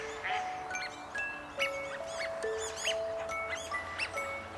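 Ducks, including wigeon, quack repeatedly in short, scattered calls over a steady background of outdoor ambience, some calls near and clear, others fainter, with a few higher chirping bird notes mixed in.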